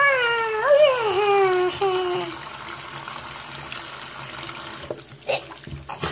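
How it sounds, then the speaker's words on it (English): Hot water runs from a tap in a steady rushing stream, with a whining tone early on and a few clunks near the end. "Hot water!"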